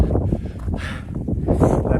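Gusty wind roars across a hilltop in the Yorkshire Dales, buffeting the microphone with low rumbling surges and a steady airy rush.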